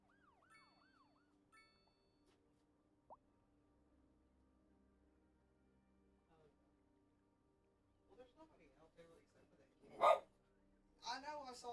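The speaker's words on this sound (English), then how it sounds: "he's randomly, like, going out to the back door and barking" A dog barks at the back door inside a house, giving a few short, fairly faint barks near the end over quiet electronic tones and siren-like sounds from a city-building game.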